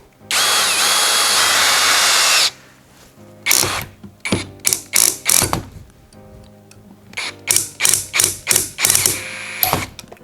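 A Worcraft CHD-S20LiBAB brushless cordless screwdriver drives a 4.2x80 screw into oak: a long continuous whirring run, then a series of short ratcheting bursts as the clutch slips in quick succession.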